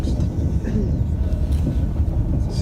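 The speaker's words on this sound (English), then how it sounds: "Found the train pulling into Lyon" Train pulling into Lyon station in France, a low rumbling rolling noise with faint rail clatter and brief squeals, close and steady throughout.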